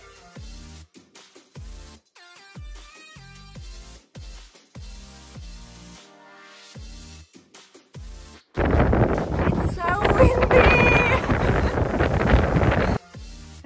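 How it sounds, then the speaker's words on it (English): Strong gusty wind at a beach in Tossa de Mar, Spain, roars against the microphone in the last five seconds, loud and broadband, following a stretch of music. "It was so windy that my hat was about to blow off."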